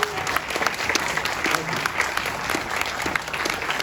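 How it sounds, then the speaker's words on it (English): Audience applause after a film Q&A with the director of L.A. Story, a steady dense patter of many hands clapping at moderate distance, continuous throughout with no talking. "Big round of applause for Mick Jackson."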